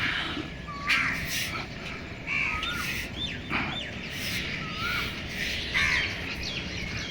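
Crows caw repeatedly while grains are scattered for birds, harsh calls coming every second or so at a moderate distance over a constant outdoor background hiss.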